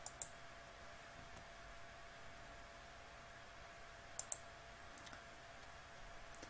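Sharp computer mouse clicks on a button, a quick double click at the start and another pair a few seconds later, with a few fainter clicks after, close and crisp over a quiet room hiss.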